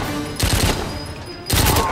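Two short bursts of rapid automatic gunfire from a weapon in Goldeneye 007 for Wii, each a loud, close rattle of several quick shots with a pause between.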